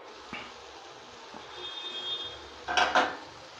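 A cooking pot lid lifted off a simmering curry-leaf curry on slow flame, giving a pair of short metallic clanks near the end after a quiet, faintly hissing stretch with a light tap earlier.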